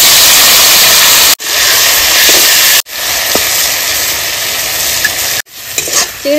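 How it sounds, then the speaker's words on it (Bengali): Prawns coated in turmeric and salt frying in hot mustard oil in a kadai, a loud, close, continuous sizzle broken by brief gaps and faint stirring knocks. "তেল গরম হয়ে গেছে, হলুদ লবণ মেখে রাখা চিংড়ি মাছটা দিয়ে দেবো।"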